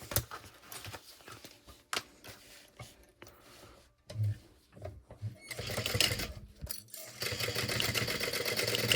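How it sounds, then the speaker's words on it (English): A sewing machine stitches backpack straps down, starting with scattered clicks and short bursts, then settling into a loud, steady, fast mechanical whir in the second half, close up and with no talking. "So let's go ahead and stitch those down."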